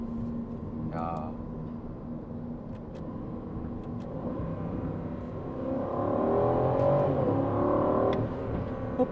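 An Aston Martin Vantage V8 engine idles and then revs up, its note rising and swelling louder near the end, heard from inside the car while people talk over it.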